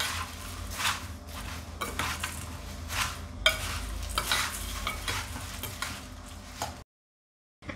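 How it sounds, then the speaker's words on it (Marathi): Matki bhel with lemon juice is stirred and mixed in a bowl with a spoon, giving continuous close scraping and clinking strokes in an uneven rhythm before the sound cuts out near the end. "हे सगळं मिश्रण आपण आता एकजीव करून घेऊ।"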